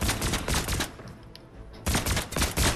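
Rapid bursts of gunfire from the Fortnite video game rattle in two loud volleys separated by a brief lull, close and dense.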